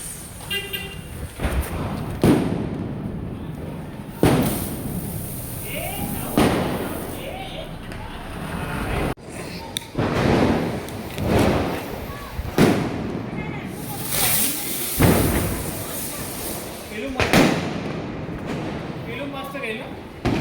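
Repeated sharp Diwali firecracker bursts pop at irregular intervals, some loud and close, with people talking and shouting in between.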